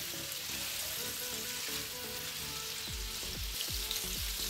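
Jalapeño chiles and three large carrots fry in a pan with a steady, close, bright sizzle throughout, joined near the end by a few low knocks.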